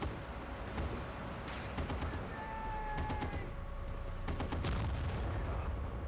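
Battlefield 1943 gunfire in dense, repeated bursts and booms over a constant rumble of battle, with several sharp shot clusters standing out near the middle and the end and no talking.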